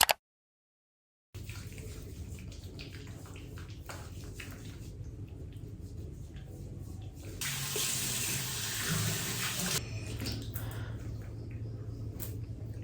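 Tap water runs steadily into a sink during face washing with face wash, a continuous near splash that swells louder midway before easing back, with no talking.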